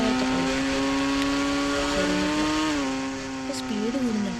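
A car engine in the Indian Bike Driving 3D video game drones steadily and its pitch rises as it accelerates, with a brief dip near the end. The sound is continuous and fairly loud, with faint talk beneath.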